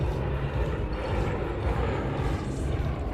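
Three Yak aircraft flying a tight formation display at Portugal Air Summit 2019 send out a continuous, even roar of piston engines, steady and fairly close throughout, with no pauses.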